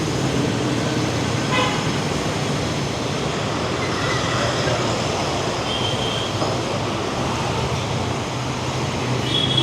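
Vehicle horns on a busy Mumbai street, with short honks poking through a constant loud roar of traffic and engines that never lets up.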